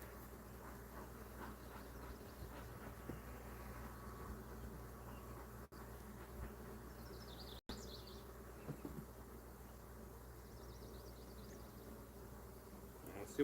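Honeybees buzz steadily around an open hive that was hit by chalkbrood in spring, a continuous close drone with a few clicks and knocks from handling.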